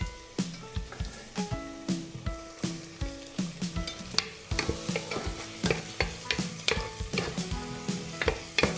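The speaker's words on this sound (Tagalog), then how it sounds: "Lutuin lang natin yung sibuyas hanggang translucent siya." Minced garlic and onions sautéing in a pan, a steady sizzle under repeated stirring scrapes in a regular rhythm, close and fairly quiet with no talk.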